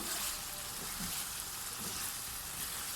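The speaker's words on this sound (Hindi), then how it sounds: "कुकिंग ऑयल भी आ गया ऊपर और अच्छे से फ्राई हो चुका है" Peshawari charsi chicken karahi frying in cooking oil, a dense continuous sizzle that stays steady and close throughout, with no voices.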